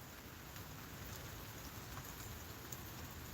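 Rain falls all at once in a steady, unbroken hiss across the whole stretch, with scattered drop ticks and no voices.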